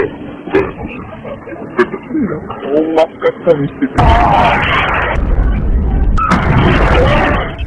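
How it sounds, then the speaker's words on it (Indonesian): Explosions tear through a food stall in the Samurai X film, two sustained roaring blasts with crackling fire following earlier rustling and voices, loud and close. "Enishi dan anak buahnya tiba-tiba meledakkan kedai tersebut hingga terbakar"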